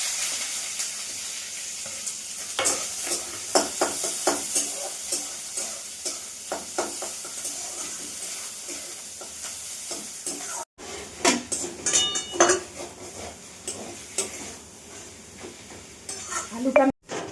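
Onion frying in oil after cumin tempering for aloo paratha filling, with a close steady sizzle and repeated scraping stirs of a utensil against the pan, clinks and knocks, no talking.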